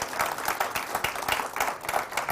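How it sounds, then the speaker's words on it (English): An audience at a Kenyan women's brand awards event claps in a moderate, uneven patter of individual hand claps, fairly close and steady throughout. "that deserves a round of applause"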